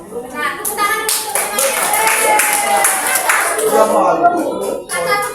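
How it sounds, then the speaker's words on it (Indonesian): Children in an Indonesian classroom clap their hands together in a sustained burst of applause, dense and close, with the teacher's voice heard around it. "Nah, tepuk tangan dulu"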